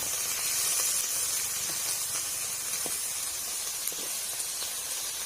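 Dense, steady hissing and crackling of grasshoppers deep frying in hot vegetable oil in a pan, continuous and close, with occasional sharper pops.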